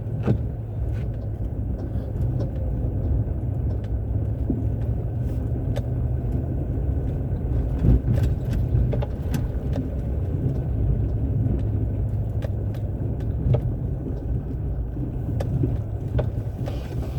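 A tractor engine rumbles steadily while plowing thawed ground, a constant low drone with small clanks and ticks running throughout, fairly loud and close with no talk.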